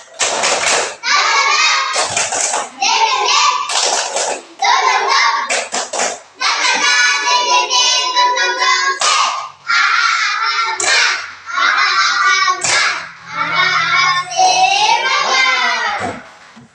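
Schoolchildren in a classroom chant a rhythmic clapping ice-breaker, loud voices in unison punctuated by bursts of clapping in repeating patterns, continuing with short pauses between rounds.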